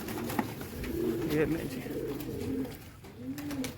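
Pigeons coo steadily from close by, several soft, throaty calls rising and falling through the clip. Someone speaks briefly over them.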